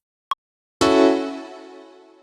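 A piano chord recorded from MIDI input rings out loud and alone, sustaining and slowly fading, after a brief isolated click at the start.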